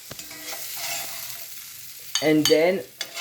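A wooden spoon stirs pasta in a cooking pot, with soft scraping and rustling at close range, followed by a louder clattering burst of stirring toward the end.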